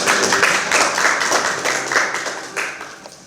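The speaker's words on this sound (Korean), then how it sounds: "박수로 맞아주십시오." Steady applause from a crowd at a political party launch ceremony fills the room, a dense wash of clapping that swells and gradually thins out toward the end.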